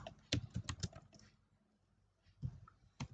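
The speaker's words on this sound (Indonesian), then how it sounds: "Kita boleh ketikkan di sini ada aktiva." Someone types on a computer keyboard close by, first in a quick burst of clicky keystrokes, then a pause, then a few more scattered taps. A voice murmurs faintly underneath.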